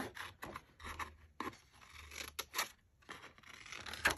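Paper being cut out with scissors for a vintage craft page pocket, a faint, close series of uneven snips and rustling paper scrapes in short bursts, no talking.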